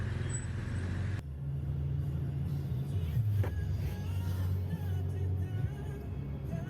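Vehicles idle in a dense queue of cars, buses and trucks at the Merak ferry port during peak holiday travel, with a steady low engine rumble throughout and a brief hiss like an air brake midway.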